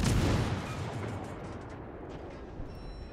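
Naval guns firing in World of Warships: a loud, booming blast at the start that rolls into a long, fading rumble, with a faint thud near the end and no voices.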